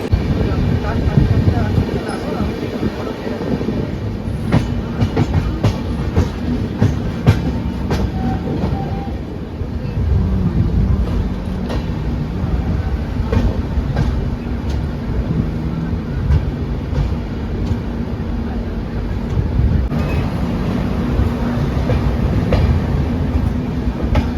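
The Howrah Bolpur Shantiniketan Express runs along the line near Bolpur, a loud, steady rumble from inside the train with rhythmic wheel clatter continuing without a break.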